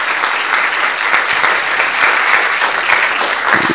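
A colloquium audience applauds the day's speakers as a round table closes, dense, loud and close-sounding clapping that holds steady throughout without a break.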